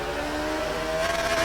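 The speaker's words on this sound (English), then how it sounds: "This is the 134 BMW, as driven by Georg Plaza, and it's got a Judd V8 Formula 1 engine in it" In RaceRoom, a BMW 134 hillclimb car fitted with a Judd V8 Formula 1 engine howls at high revs, a loud, sustained engine note that climbs slightly in pitch, with no talk.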